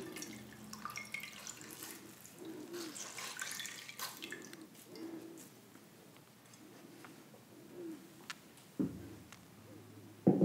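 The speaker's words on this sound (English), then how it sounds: "I'm going to wring out my washcloth, just soaking it a bit more in the peppermint water" A washcloth soaked in peppermint water is wrung out, giving close, soft trickling and dripping water sounds in gentle repeated pulses, ending with a louder splash or squeeze.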